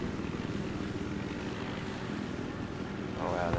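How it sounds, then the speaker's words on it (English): A helicopter flies in a first-person shooter game, its steady rotor and engine drone loud and continuous throughout, swelling slightly near the end. "Yeah, the chopper should be up now."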